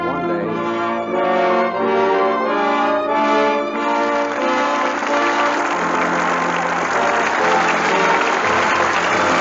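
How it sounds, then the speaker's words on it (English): Studio audience applause at a 1945 radio theater broadcast, swelling over the closing orchestral chords of a sustained, brassy musical sting, then carrying on as steady crowd clapping once the music ends. "With that well-deserved applause,"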